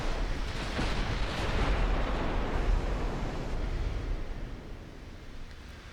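Naval gunfire in the Fire & Iron warship game, Japanese dreadnoughts trading high-explosive shells: a dense, continuous low roar of booming blasts and rumble, loud at first and slowly easing off, with no voices.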